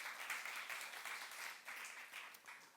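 Congregation clapping in a church during a sermon, a steady, dense patter of many hands sustained throughout, moderately distant and fairly quiet with no clear talk on top.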